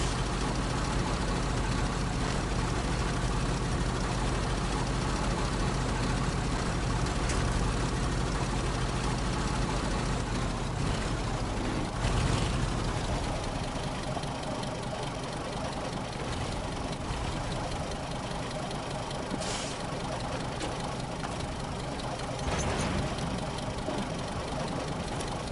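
A truck engine idles steadily in the SnowRunner video game, a continuous low rumble with a slight knocking character that holds at an even level throughout, with a brief louder surge midway.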